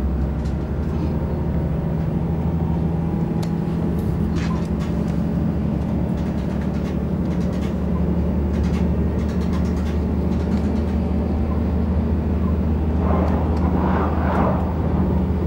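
A passenger train runs along the City-Bahn Chemnitz line from Niederwiesa toward Chemnitz in April 2005, producing a steady, loud, low rumble with faint rail clatter throughout and a brief rise of rattling near the end.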